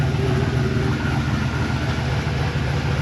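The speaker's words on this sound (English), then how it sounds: "You can hear the turbo a little whirl." A turbocharged 363 small-block Ford V8 idles in a Notchback, a steady close engine drone and exhaust rumble with a faint turbo whirl running through it.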